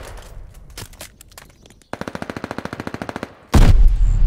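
Video game gunfire at a contested hard point: a few scattered shots, then a rapid automatic burst of about fifteen evenly spaced cracks, ending in a louder heavy blast.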